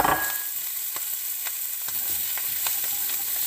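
Chopped onion, carrot and celery fry in a pot for chicken chasseur, giving a steady bright sizzle with a few scattered stirring clicks, close and alone with no talk.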